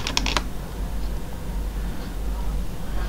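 A few quick, sharp key clicks on a computer keyboard as Ctrl C is pressed, heard right at the start, followed by a low steady room hum.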